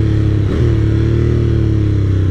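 A 1995 Ducati 900 SS air-cooled Desmodue V-twin engine drones loudly and close while riding, with a brief throttle change around the half-second mark before settling into a steady, deep pulsing tone.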